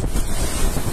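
Strong typhoon wind during Typhoon Odette (Rai) in the Philippines buffets the microphone in a loud, continuous roar for about a second, with no voices.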